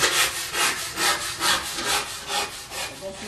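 A wood handsaw rasps through a soft block of aerated concrete in steady back-and-forth strokes, about seven even passes, close and fairly loud.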